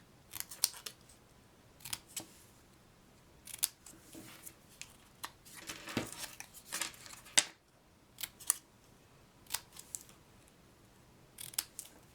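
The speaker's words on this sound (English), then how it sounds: "The only thing I need to do is banner the ends." Scissors snip the ends of embossed paper strips into banner points, giving sharp, crisp cuts in irregular bursts with short pauses between them. No one speaks.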